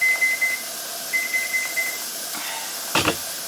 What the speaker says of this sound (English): Okay, the timer's going off.